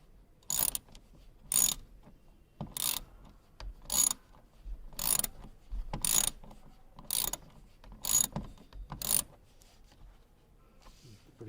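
A ratchet wrench clicks through about ten short bursts of rapid ratcheting, separated by brief pauses, close up, while bolts are loosened during a front armrest installation in a Tata Tiago or Tigor.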